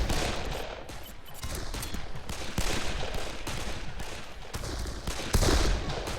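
Gunfire in the video game Darkest of Days, with dense bursts of rapid shots and volleys crackling continuously at moderate level, no talking.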